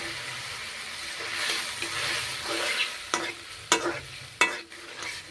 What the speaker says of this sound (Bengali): জল দিয়েছি, নেড়ে চেড়ে নিচ্ছি।